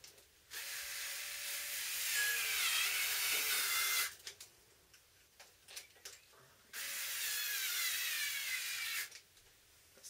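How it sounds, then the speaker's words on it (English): A screwdriver tightens screws on a truss in two sustained whirring runs of a few seconds each, separated by a short quiet gap with small clicks, heard fairly faint and with no talking. "grab your screwdriver. Very important just to make sure that these are thoroughly tightened up"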